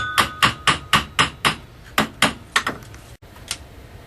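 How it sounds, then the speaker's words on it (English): Repeated hammer blows on metal while a steel lally column is fitted under a basement beam, about a dozen sharp ringing strikes in quick, slightly uneven rhythm, close and loud, with a short pause before the last few hits. "After lots of hammering and swearing, the final step is to level it the best you can."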